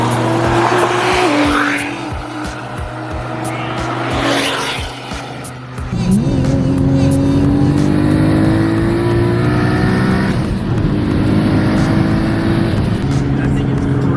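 Twin-turbo Audi R8 at a car meet, engine revving hard with rising harmonic sweeps and loud sustained roar close by, amid crowd noise and other cars idling.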